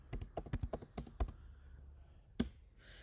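Quick keystrokes on a computer keyboard type out a short command: a rapid run of clicks, a pause, then one firmer key press.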